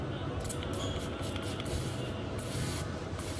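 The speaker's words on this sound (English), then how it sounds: "I'm going to spray it on my hand and show you exactly what I'm talking about." A makeup setting spray is pumped in quick bursts onto a hand, giving a close hissing mist that sits over a steady background hiss.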